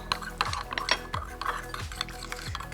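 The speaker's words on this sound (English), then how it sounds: "quick little stir." A spoon stirs sweet chilli lime mayo in a bowl with quiet clinks and soft scraping in a quick, uneven rhythm. It is close but faint, with no voices.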